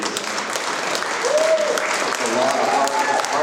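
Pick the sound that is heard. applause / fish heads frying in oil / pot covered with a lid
applause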